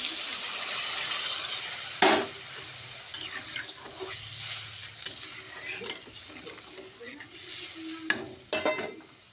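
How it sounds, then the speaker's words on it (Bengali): Spices are stir-fried in a pan for a red lentil fritter curry: a steady low sizzle broken by several sharp spoon scrapes and clinks against the pan, close by, with no voices. "আসতে ভালো করে কষিয়ে নিই কষানো হয়ে গেছে"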